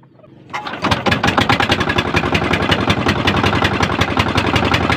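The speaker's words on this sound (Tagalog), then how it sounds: "pandarin ko na ang ating makina" A fishing boat's engine cranks and catches, then settles into a loud, steady, rapidly pulsing idle that runs close by until the end.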